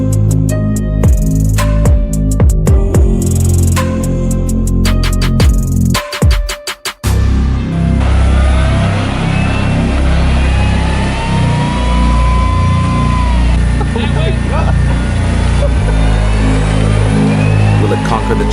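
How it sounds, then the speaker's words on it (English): A tank grinds through muddy forest terrain, its engine roaring loud and close and straining continuously, with sharp clanking bursts early on before a sustained laboring drone. "a tank battles against treacherous, muddy terrain"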